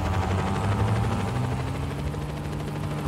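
A helicopter from the Just Cause 4 video game sets down, its rotor and engine producing a loud, steady drone with a low hum and rapid blade chop that holds throughout, no voices over it.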